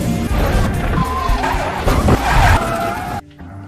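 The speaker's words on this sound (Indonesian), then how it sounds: "Sony sukses merusak mobil F1 yang harga satu unitnya bisa mencapai ratusan miliar rupiah." An F1 car in the racing game F1 2025 skids and smashes into a crash, a loud screech and crunching impact lasting about three seconds before cutting off abruptly to quiet engine hum.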